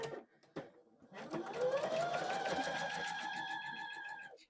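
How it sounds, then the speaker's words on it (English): A domestic sewing machine stitches fabric ornament pieces together, opening with a couple of brief clicks and then running in a steady, close, rising whir that holds for a few seconds before stopping abruptly. "Go ahead and sew these."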